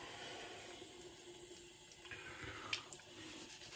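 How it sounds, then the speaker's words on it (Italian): A thin stream of tap water runs into a sink to wet a shaving brush, a soft, continuous trickle with a few faint splashes and clinks. "teniamo un filo d'acqua per il pennello"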